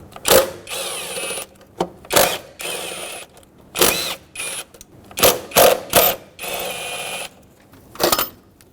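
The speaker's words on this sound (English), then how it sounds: "now with a 10mm socket, remove the 4 bolts holding this throttle body onto the intake." A 10mm socket ratchet clicks through repeated bursts of fast pawl clicking, about a dozen close, sharp runs separated by short pauses, as bolts come out of the throttle body on a 2011-2016 Ford F-350 6.2L V8.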